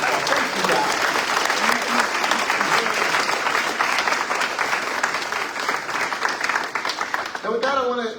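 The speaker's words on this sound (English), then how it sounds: "please stand up and let us give you a little round of applause" Audience at a city council candidate forum giving a sustained round of applause for the candidates' families, dense steady clapping that thins near the end as a voice begins speaking.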